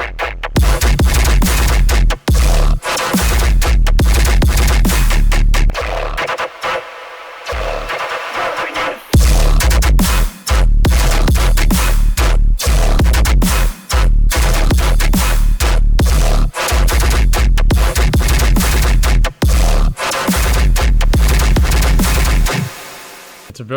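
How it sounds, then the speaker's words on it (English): A heavy dubstep drop built by resampling three bass samples, loud and dense with thick low end and choppy stop-start bursts, cut by a few brief silent gaps. "we're going to turn it into a drop that sounds like this"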